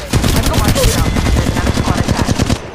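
Rapid automatic gunfire from Apex Legends Mobile rattles on loud and close in quick bursts for nearly three seconds, with overlapping shots and impacts and a faint voice underneath.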